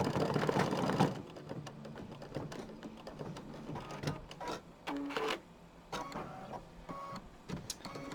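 An embroidery machine stitching a quilt block, with quick mechanical needle clatter and whirring in short bursts separated by brief pauses, fairly close and fairly quiet.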